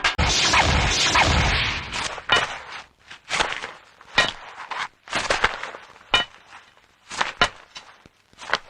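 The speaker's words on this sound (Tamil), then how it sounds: "பருப்பு பருப்பு, என்னடா அது டக்கு டக்குன்னு சத்தம் கேக்குது?" Sharp knocks and thuds from digging a tunnel come in irregular bursts, some in quick pairs, like hard tools striking rock, after a rumbling scrape at the start.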